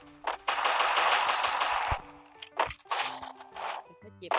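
Loud rapid automatic gunfire in Free Fire, one long sustained burst followed by several shorter bursts with brief gaps.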